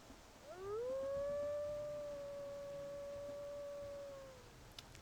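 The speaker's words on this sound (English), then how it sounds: "Now let's listen to her howls as well." A single higher-pitched wolf howl from a video game character, rising smoothly then holding a long steady tone for several seconds before tapering off, heard alone against a low background hum.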